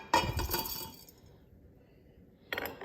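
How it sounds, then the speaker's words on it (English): Small solid items clink against a glass jar as they drop into it, a sharp burst of bright clinks at the start, a pause, then another short rattle near the end, close and clear with no talk. "So I'm placing all of those in this glass jar."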